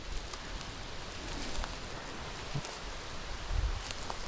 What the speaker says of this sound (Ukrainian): Єдине, що може бути на відео чутно гудіння це від вітру